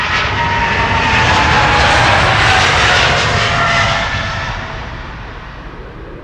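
Boeing 777-300 PH-BVC passes at Schiphol with a loud, broad jet engine roar that swells to a peak and then fades gradually as the airliner moves away, with no voices.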